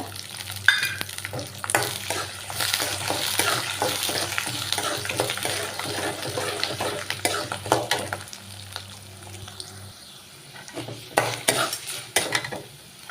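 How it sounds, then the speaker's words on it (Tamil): Twenty to thirty garlic cloves fry with lightly roasted urad dal for vandikaran chutney, a crackling sizzle broken by repeated stirring scrapes and clinks of a spoon against the pan, quieter toward the end. "நல்லா ஒரு இருபது பல்லு முப்பது பல்லு பூண்டு வந்து சேர்த்துக்கோங்க"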